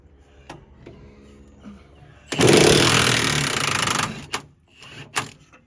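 A Milwaukee 1/2-inch impact wrench loosens a truck cab mount bolt in one loud, sustained burst of hammering rattle lasting under two seconds, followed by a few sharp clanks.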